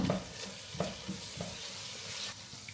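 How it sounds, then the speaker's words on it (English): Minced meat sizzles steadily as it fries in a pan, with regular scraping stirs of a spoon every half second or so, close and moderately loud. "So I have this minced meat that I'm adding in."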